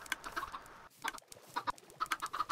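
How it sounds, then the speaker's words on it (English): Minecraft chickens clucking in a modded game, a run of short, sharp clucks in quick bursts with a brief pause near the middle, fairly close and clear with no talking. "these chickens are going to get big"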